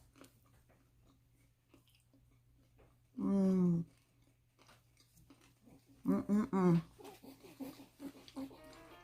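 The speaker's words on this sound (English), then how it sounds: "Can you hear the crunch on the outside?" Someone bites into crispy hot water cornbread, giving two short bursts of crunchy chewing close to the mic over a quiet room, with faint background sounds in between.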